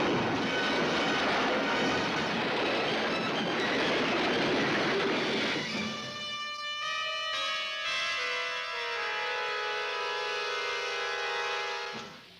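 A train in a western film trailer roars loud and close with a rushing rumble for about six seconds, then gives way to sustained, ringing, bell-like tones that hold until the end.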